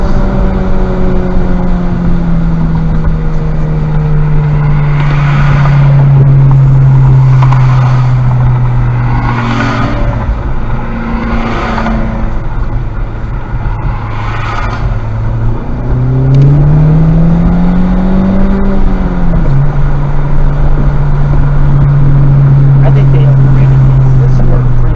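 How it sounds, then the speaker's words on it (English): A Honda Civic Type R on a track day, engine droning loudly at wide open throttle with pitch climbing and dropping through gear changes, heard from inside the cabin while a driver talks over it. "You'll be wide open throttle by here."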